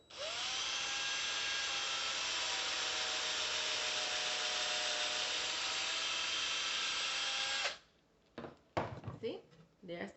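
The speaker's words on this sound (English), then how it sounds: "you're going to put your drill right where they meet" A power drill bores into wood while a wedding centerpiece is being made, a loud, steady whine lasting about seven seconds, then a few short bursts and clatter.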